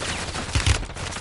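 Rapid bursts of gunfire crackle through a harsh, noisy Call of Duty: Warzone soundscape, with a couple of heavier thuds in quick succession.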